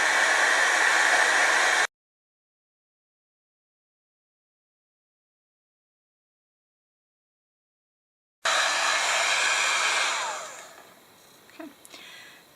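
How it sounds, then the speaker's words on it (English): A heat gun embossing powder on a card blows a steady, loud rushing hiss, cuts off for several seconds, then roars again before fading to quieter scrapes, close with no talk. "Now that my heat gun is nice and hot, I'm going to go ahead and emboss that."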